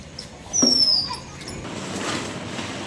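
A city dog gives a thin, high whimpering whine followed by softer fidgety sounds, fairly close, with faint background noise and no growl clearly standing out.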